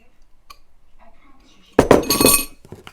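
Butter and salt stirred into candied yams, a brief burst of clinking and scraping from a utensil against a glass dish, close and loud after a quiet moment.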